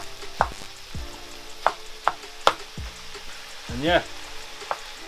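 Ground meat frying and being stirred in a pot for beer-infused chilli, with a steady sizzle broken by several sharp scraping stirs and clanks of a utensil against the pot, close up, with a brief spoken remark.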